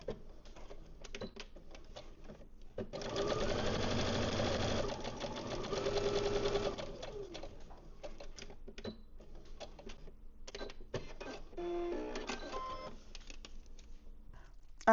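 A sewing machine stitches a 3/8-inch fabric seam with back stitching at each end while making a bow, running in a steady loud burst of several seconds between quieter handling sounds, then a few shorter runs.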